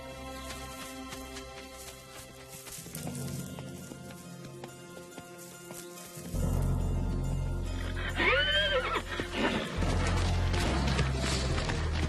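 Circus horses whinny loudly in several rising and falling calls over a steady low rumble, while a newborn foal takes its first shaky trot; the calls come in the second half, with music-like tones earlier.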